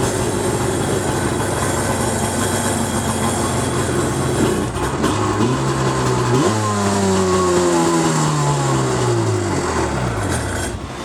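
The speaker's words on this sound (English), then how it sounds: "Let me show you how it fires up." A Polaris SLX 780 jet ski with twin engines runs loudly and steadily, then revs up with rising and falling engine tones before easing off near the end.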